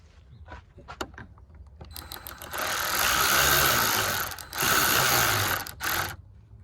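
A ratchet with a 10mm socket works a car audio battery terminal bolt. Quick clicks come first, then close, loud, sustained mechanical whirring in two long bursts and one short burst.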